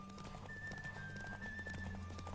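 Horses gallop in The Witcher 3: Wild Hunt, a steady run of hoof clip-clops with an occasional whinny over a continuous game soundtrack, loud and close throughout the short stretch.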